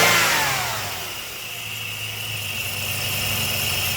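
A 2005 Jeep Liberty with a new water pump runs steadily close by, its engine humming evenly with a slight rise and settle in pitch, no voices over it.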